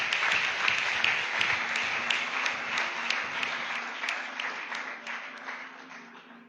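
A church congregation applauds in sustained, dense clapping that holds steady for several seconds and slowly thins toward the end, at moderate distance with no voices over it.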